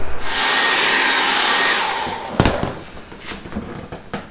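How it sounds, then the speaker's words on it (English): Old hair dryer blowing on a molded industrial polyvinyl floor mat in a garage, a loud steady whooshing roar for about two seconds that cuts off, followed by clunks and knocks as it is handled. "I've also been out here with this old hair dryer that I use on different projects, trying to get things more pliable"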